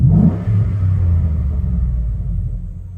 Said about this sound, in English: When I rev it sounds a lot different.